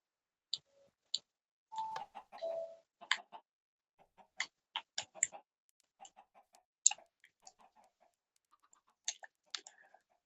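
Minecraft chickens spawning every second or so from a command block, giving short scattered clucks and squawks at irregular intervals, faint and isolated against silence, with a brief voice-like murmur early on.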